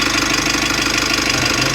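A Mitsubishi L300 2023 model diesel engine idles after a turbo repair, a steady, loud, continuous rumble with a faint rhythmic knock, running alone without talk.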